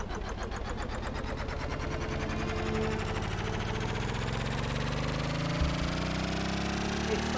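An engine is starting up in Stormworks. Loud, rapid rhythmic pulses speed up and climb steadily in pitch as it spins up into a constant mechanical drone.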